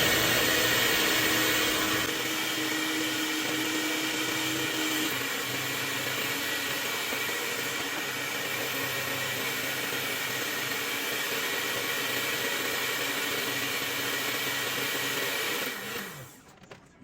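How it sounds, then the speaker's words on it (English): An electric mixer whirs steadily through cheese danish filling, a loud continuous motor drone that shifts slightly in pitch partway through and then winds down and stops at the end. "I'm just going to continue to mix all my filling"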